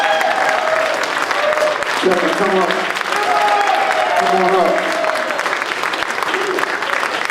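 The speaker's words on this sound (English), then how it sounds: "I want you to give a big round of applause to Brother Kevin Reese" An awards celebration crowd claps loudly and continuously for Brother Kevin Reese, while someone speaks over the ovation through much of it.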